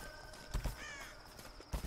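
Birds call in the video game Tomb Raider, a few faint caws and chirps scattered over a murky ambient background, with a couple of soft thuds and no talking.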